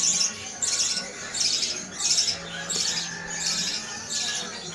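A pet bird squawks while held in someone's hands, giving a string of about seven harsh, evenly spaced calls, close and fairly loud over a faint background hum.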